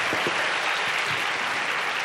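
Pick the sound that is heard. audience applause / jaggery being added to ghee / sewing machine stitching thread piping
audience applause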